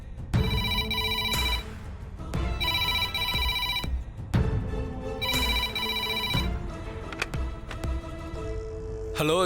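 Telephone at a police station ringing in repeated bursts of bright electronic tones separated by short pauses, fairly loud and close, with no talk over it.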